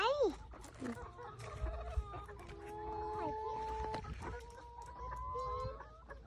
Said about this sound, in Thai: ป้าป้าเอาไก่ไหนมาเลี้ยงเยอะแยะเลยเนี่ย